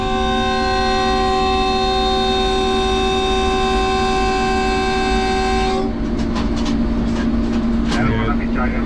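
Inside the locomotive cab of the 1UP Khyber Mail on the Multan to Lahore run, a loud steady harmonic tone like a horn holds for about six seconds, then cuts off, leaving rumbling engine and rail noise with faint voices.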